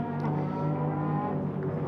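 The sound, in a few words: race cars driving around Luffield at Silverstone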